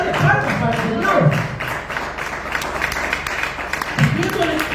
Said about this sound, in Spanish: Vamos, a darle palmas para el Señor.